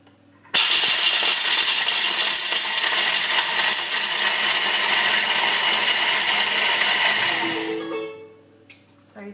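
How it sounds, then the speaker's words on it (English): Kitchen machine milling whole almonds into almond flour, a loud, steady grinding whir starting abruptly and running about seven seconds before winding down and stopping. "I'm going to mill that up into an almond flour."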